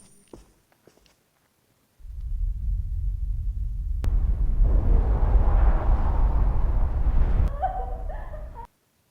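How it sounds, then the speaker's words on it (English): Explosions in the horror video game NightCry: a sustained, loud low rumble of blasts and roaring fire that starts abruptly after near-silence and runs for several seconds before cutting off. "I guess those explosions are just a movie then"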